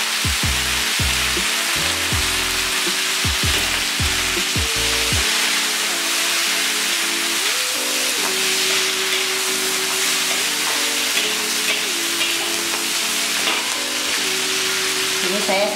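Ingredients for a Medan-style mixed vegetable stir-fry (oseng campur-campur, pek cha) sizzle steadily in oil in a hot pan, loud and close, with a few low knocks of stirring near the start.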